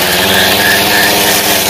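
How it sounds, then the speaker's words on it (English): A grass trimmer fitted with a steel blade cuts overgrown grass around rocks, its engine a loud, close, continuous drone. "I'm using that steel trimmer that I got"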